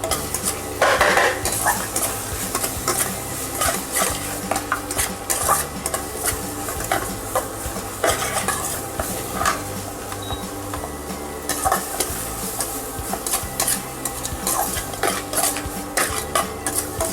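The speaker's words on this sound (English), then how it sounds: "Fry it nicely until it's done." Chopped beans fry in a pan with a continuous, busy sizzle, while a utensil keeps scraping and stirring close by in a steady rhythm throughout.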